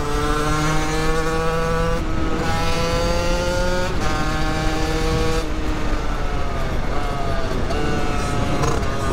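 A car engine revs and shifts through small bends on a gravel road, its harmonic drone rising and falling between gear changes, steady and close throughout with no talk.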